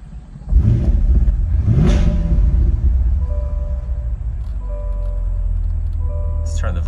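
A 2020 Corvette Stingray V8 fires up with a loud close burst, revs once, then settles into a deep steady idle rumble with a faint high whine over it.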